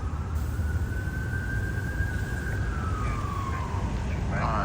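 Emergency vehicle siren in Los Angeles, one long wailing sweep that rises and then falls as it passes, heard from inside a moving car under heavy road and engine noise.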